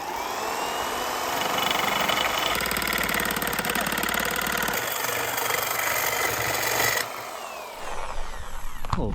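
A Ford Explorer 5.0 V8 swapped into a '68 Mustang with a custom exhaust, running with a loud, rough, rapid chug at close range for most of the stretch, then dropping off near the end.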